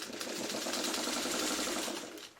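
Sewing machine stitching a seam on a quilt block: a steady, close, fast whirring hum of the running machine that holds evenly, then slows and fades at the end, no talking.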